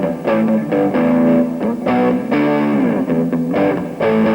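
Distorted heavy metal electric guitar plays a sequence of sustained, ringing chords drawn from the E blues scale, loud and up close, each chord held about half a second to a second before the next, with no talk over it.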